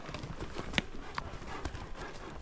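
Horse hooves clip-clop at a steady pace while a rider trains a new horse during a cattle drive on a western ranch. The footfalls are faint and fairly distant, one sharper hit stands out, and there is no clear speech.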